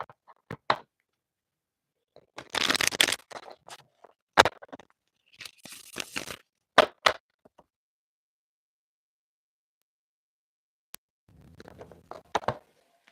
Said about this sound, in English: Now I'm just hearing shuffle, shuffle, shuffle.